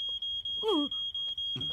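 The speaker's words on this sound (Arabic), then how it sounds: "هذا صوت إنذار حريق" A fire alarm sounds in a shop in an animated Fireman Sam episode: a steady, piercing electronic tone that runs without a break, while a voice cries out briefly in the middle and another voice starts at the end.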